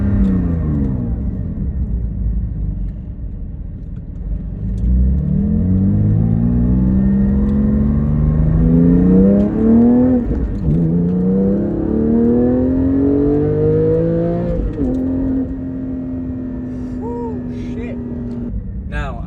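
Porsche Cayman GT4 718 with a manual gearbox, engine revving up through the gears while driving, a steady rising drone that climbs, dips at each shift, and settles into a cruising hum, heard from inside the car.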